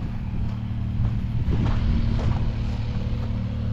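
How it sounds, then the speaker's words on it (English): A mud boat motors through a bayou, its steady engine drone rumbling loud and close with low chugging tones, wind buffeting the microphone throughout. "Listen to the mud boat coming through, y'all."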